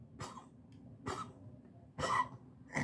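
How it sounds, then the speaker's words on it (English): A dog with congestive heart failure gives three short, quiet harsh coughs spaced about a second apart, then a gagging throat sound at the end, with nothing brought up. "they're coughing and gagging like that and not throwing up anything"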